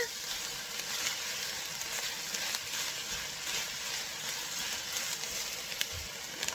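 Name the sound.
stirring jalapeno and cilantro in a pan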